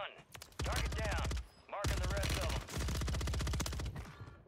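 Rapid automatic gunfire from a RAM 9 submachine gun in Warzone 3, fired in three long sustained bursts with brief pauses between, loud and close, with faint game sounds underneath.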